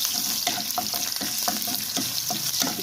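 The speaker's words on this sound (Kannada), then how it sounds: "ಸ್ವಲ್ಪ ಹುರ್ಕೋಬೇಕು ಬೆಳ್ಳುಳ್ಳಿನ." Crushed garlic frying with mustard seeds and asafoetida in hot oil, a steady sizzle broken by regular scraping stirs and small spattering pops, close and moderately loud.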